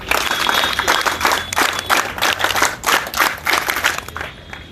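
An outdoor street-play audience at Green Park metro claps steadily for a speaker, a dense, fairly close burst of applause that holds for several seconds and tapers slightly at the end.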